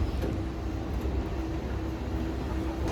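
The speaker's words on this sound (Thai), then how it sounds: "ตอนนี้รถไฟก็มาแล้วนะคะ" A century-old vintage train pulls into a station in Ibaraki, Japan, giving a steady low rumble with a faint high whine that holds for about three seconds, continuous and fairly loud throughout.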